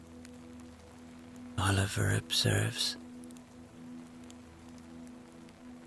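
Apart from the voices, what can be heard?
rain falling at night by a lake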